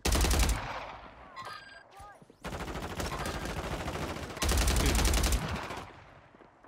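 Automatic gunfire in the Warzone 3 battle royale game, sustained loud bursts of rapid shots with a short lull in the middle and a faint voice underneath.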